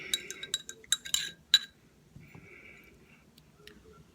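Metal spoon clinking against a glass while stirring an apple cider vinegar detox drink with cayenne pepper, a quick burst of sharp close taps followed by softer swirling and scraping, with no talk.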